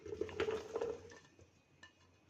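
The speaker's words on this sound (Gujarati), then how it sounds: "આપણે એક કુકર લીધું છે એમાં આપણે બધા ટમેટાં નાખી દઈશું" Tomatoes, about one and a half kilos, go into a pressure cooker with a few soft thuds and clinks of the cooker's metal body, close up, then the sound fades to quiet room tone.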